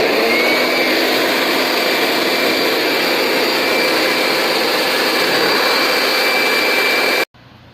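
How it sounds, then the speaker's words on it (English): Toro electric leaf blower blasting air to dry a freshly washed Bandit SG 40 stump grinder, a loud steady roaring whine held for about seven seconds before cutting off abruptly. "I like to take the Toro electric blower and blow everything dry"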